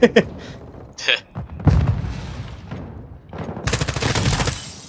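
Rapid gunfire and booming explosions from the Call of Duty: Modern Warfare II beta video game burst in sharp clusters, loud bangs at the start and near the end with a rumbling tail, while a player talks over it.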